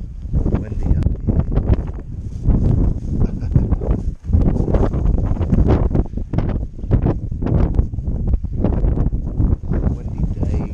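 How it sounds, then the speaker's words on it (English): Gusty wind on a wharf at Tolaga Bay buffets the microphone in rough, uneven bursts, loud and close, with a brief lull midway. "Windy day."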